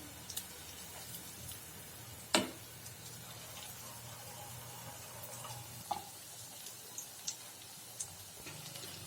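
Semolina and potato snacks fry in medium-hot oil, giving a steady, quiet sizzle with a few sharp pops and crackles scattered through it, with no one talking.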